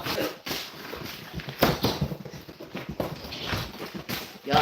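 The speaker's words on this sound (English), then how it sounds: "Y'all dogs is in here playing." Dogs romping indoors on a carpet, with a steady patter of scrabbling paws and scattered thumps and scuffles close by, fairly loud throughout.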